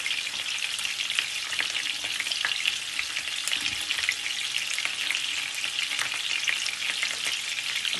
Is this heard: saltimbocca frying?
yes